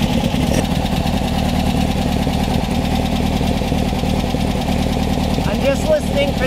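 Engine of a Beck 550 Spyder replica idles through straight pipes, a steady throbbing rumble with a slightly uneven lope and occasional light pops, close to the microphone while someone talks over it.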